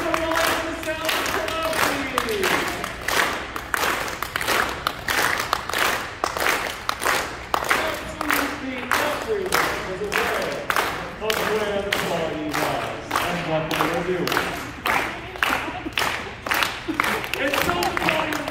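Steady, rapid clapping from several people runs throughout, with harmonic voice-like sounds weaving through the middle.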